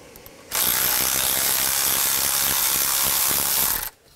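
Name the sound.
ratchet with 10 mm socket removing bolt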